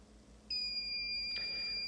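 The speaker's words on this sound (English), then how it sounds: "we will wait for it in fast motion for the alarm" An Arduino-built alarm clock with a scent diffuser sounds a steady high electronic beep tone that starts about a quarter of the way in and holds continuously to the end, loud and clear against a quiet room.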